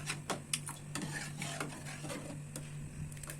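Coconut milk and dal being stirred in a cooking pot, with repeated scraping and clinking of a spoon against the metal pot in an irregular rhythm, close and moderately quiet under a steady low hum.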